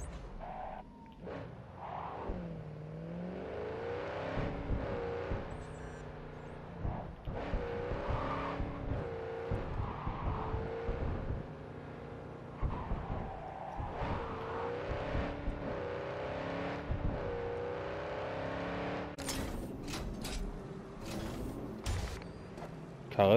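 A car is driven in Cyberpunk 2077, its engine holding a steady droning hum that rises and falls in pitch, with a few creaks over the top.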